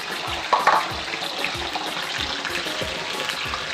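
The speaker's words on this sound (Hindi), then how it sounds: "इसके अंदर हम ये आलू फ्राई होने के लिए डाल देंगे।" Potato pieces fry in hot oil for a mixed vegetable dish, a dense continuous sizzle close by, with a brief louder crackle as they go in and light clinks of a utensil; no speech.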